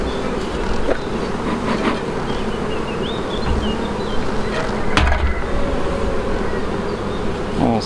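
Honeybees buzzing loudly around an opened hive nest being broken into, a dense, continuous close-up drone with no talk.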